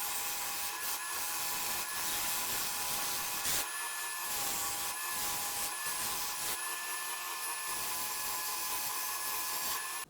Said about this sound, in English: I just take it over to the belt sander, kind of get all the rough edges smoothed up